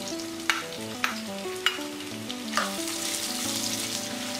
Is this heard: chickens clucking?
no